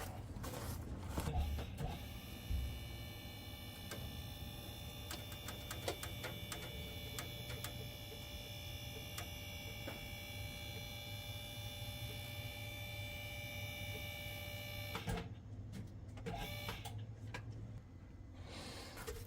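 A car lift raises a vehicle in a garage during a bump stop installation. It gives a steady, faint electric motor hum with mains-like drone and scattered light ticks and clicks, alone and without talk, before easing off near the end.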